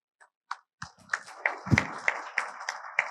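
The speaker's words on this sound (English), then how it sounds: "Let us give a big applause to the graduates." Applause for graduates at an indoor convocation ceremony: a few scattered claps that quickly grow into sustained clapping from a modest crowd, with distinct individual claps still audible.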